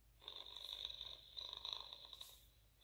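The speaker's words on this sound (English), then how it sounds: "And this is Charming Purr." A steady electronic cat-purring tone from a toy sound book, rising and pausing twice, fairly quiet and alone.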